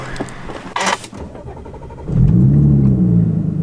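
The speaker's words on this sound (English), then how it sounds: "So we still have to go for a test drive, make sure everything's running good." High-mileage Audi S4 running on a test drive after brake pad and rotor work, with a brief whoosh then a steady, fairly loud engine drone rising as the car pulls away.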